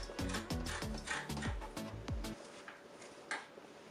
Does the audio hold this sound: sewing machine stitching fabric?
yes